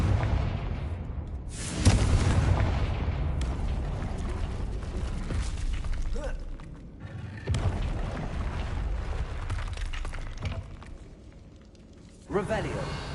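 Hogwarts Legacy's Confringo fire spell detonating in repeated heavy booms and bursts, loud and close, with rumbling tails between blasts and a voice talking over the action.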